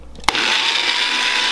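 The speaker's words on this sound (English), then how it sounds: "Okay, and now I'm gonna blend this until" Kitchen blender whirring as it purees noodle ingredients with added water, starting abruptly with a sharp click after a quiet moment, then a loud, steady, continuous motor roar.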